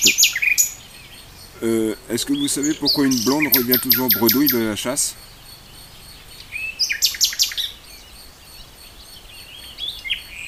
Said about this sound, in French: On se repose avec les oiseaux.